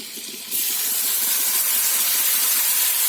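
Mint paste hits a hot pan and breaks into a loud, steady sizzle after a brief quieter moment, hissing continuously up close with no talk.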